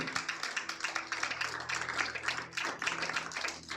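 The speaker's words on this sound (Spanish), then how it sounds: "dale un aplauso al Señor" A church congregation applauds, a dense wash of many hands clapping, steady and moderately loud throughout, with no voices standing out.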